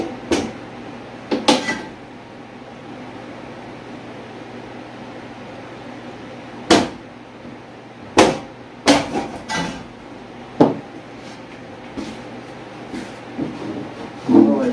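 Drywall panels for an entertainment center are fastened with a tool, giving sharp, irregular knocks and short mechanical bursts against a quiet room hum, some louder than others.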